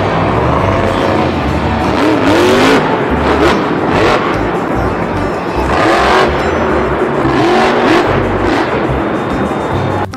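A toy monster truck's engine sound effect plays loudly and continuously, with revving surges and a rumbling roar that rise and fall in pitch over about ten seconds.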